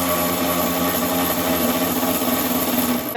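Steady mechanical ratcheting and grinding from a socket wrench working bolts loose on a go-kart's rear bumper, loud and continuous throughout with no pauses or talk.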